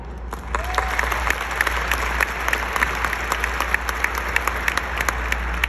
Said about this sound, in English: For their dedication to excellence, let's give a round of applause to our presidential scholars, Maya Marshall and Vlad Riva.